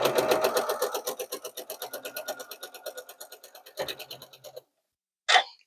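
A sewing machine runs in a quick, even chatter of stitches as it joins quilt block pieces, slowing toward the end and stopping, followed by a short clack before a brief final burst.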